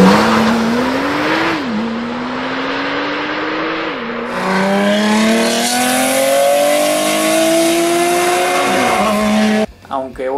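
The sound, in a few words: combustion engine car revving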